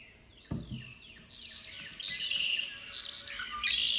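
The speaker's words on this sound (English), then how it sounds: "So currently I'm listening to a generic singing bird cassette." Birdsong from a generic singing-bird cassette played through a home stereo: a bright run of repeated chirps and trills that thickens and grows louder, after a soft click at the start.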